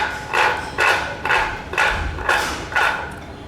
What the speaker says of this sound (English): we make the cavity with the help of second chisel with the flat one like this